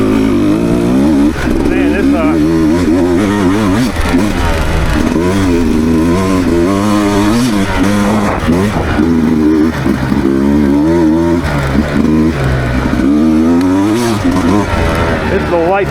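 A 2024 Beta dirt bike engine on an off-road demo ride, loud close buzzing two-stroke-style revs rising and falling continuously with throttle changes, a rider talking over it.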